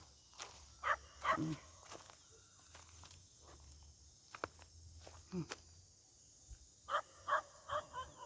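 A dog lying out in a rice field barks a few scattered times at moderate distance, with soft rustling and insects in the quiet rural background.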